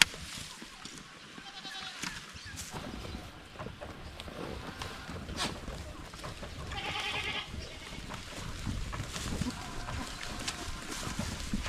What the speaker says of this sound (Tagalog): So ngayon po marami na po tayong buntis ng kambing.